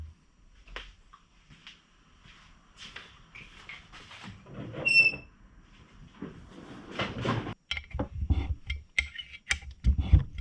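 Allen keys working on the rear sets of a 1996 Suzuki GSXR 750 SRAD track bike, making sparse metallic clicks and ratcheting scrapes, faint at first and then denser and louder rattling handling toward the end.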